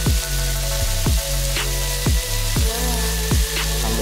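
Chicken frying with wilted onion for teriyaki produces a dense, continuous sizzle, close and loud, with a regular low pulsing thump roughly every three quarters of a second underneath; no talk.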